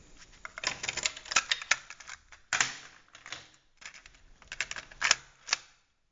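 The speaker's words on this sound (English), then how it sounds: "Press record and play again, and you can see that this deck works flawlessly with this tape." Buttons are pressed on a double-capstan cassette deck, record and play. Close mechanical clacks and clicks come in irregular clusters, fairly quiet, with short gaps between presses.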